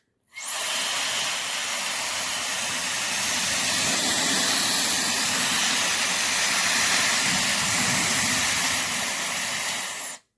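Shark FlexStyle hair dryer blowing air, a steady broad whooshing hiss with a soft motor hum, switched on and running evenly for about ten seconds before cutting off, close and alone.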